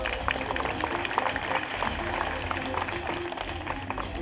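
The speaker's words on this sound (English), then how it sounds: "Have a nice big round of applause for Akasha." An audience at a tiger show applauds the tiger Akasha, a dense, even wash of clapping from a crowd that holds steady throughout with no break.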